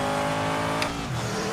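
A Lola race car engine in Project Motor Racing revs hard and harmonically, with a brief gear-change blip midway before it pulls again, close and loud.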